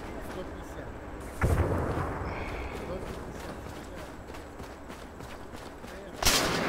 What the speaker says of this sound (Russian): Выстрел!